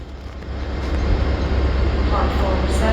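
A ScotRail train bound for Tweedbank rolls into Edinburgh Waverley station with a low, steady rumble and hiss under faint station ambience.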